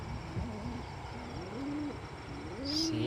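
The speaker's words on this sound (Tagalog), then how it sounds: "Dito naman tayo sa ating mga ibon." Soft, low cooing calls repeat several times, rising and falling, against a quiet hiss of background noise.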